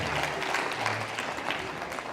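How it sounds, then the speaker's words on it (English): Audience applause at an academic lecture, a soft, steady wash of many hands clapping, somewhat distant and fairly quiet, with no clear speech over it. "Please clap for them, for it is not an easy job."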